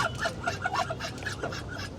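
A sick duck quacks and honks in a house, a run of quick nasal calls close by, with other fowl sounds mixed in.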